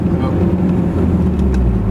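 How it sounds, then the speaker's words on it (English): Modified 2014 Mitsubishi Evo GSR turbo engine accelerating, a steady loud low drone with rising engine noise close to the microphone, some wind buffeting over it. "when you hit this gas pedal and accelerate a second later, and it wants to take off, you could hear that right in the motor too"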